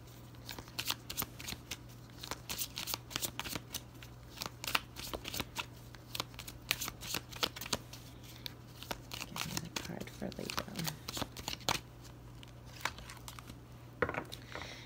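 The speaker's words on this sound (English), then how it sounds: "I'm going to be shuffling the major arcanas" Tarot cards being shuffled, a long run of rapid papery riffles and flicks close up, with a steady low hum underneath.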